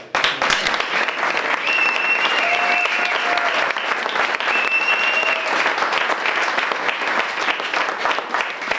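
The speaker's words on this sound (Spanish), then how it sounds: "voy a pedir un aplauso para Mariano." An audience at a storytelling evening applauds loudly and steadily, with the dense clapping filling the room from start to finish.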